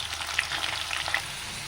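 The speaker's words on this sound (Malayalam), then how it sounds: "വെളിച്ചെണ്ണ ചൂടായി അതിലേക്ക് അരിഞ്ഞു വെച്ചിരിക്കുന്ന സവാള 4 സവാള അരിഞ്ഞു വെച്ചിരിക്കുന്നത് ഇട്ട് കൊടുത്തു" Four sliced onions just dropped into hot coconut oil, frying with a steady close sizzle and light crackle, no talking.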